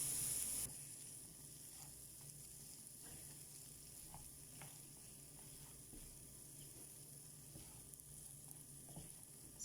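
Potatoes fry in hot oil with a soft, steady sizzle and light crackling throughout, faint and continuous.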